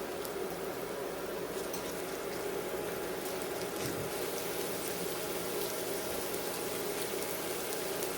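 Chopped onion sautéing in a pan over high heat for Portuguese rice, a steady close hiss and crackle of frying that runs evenly without pause.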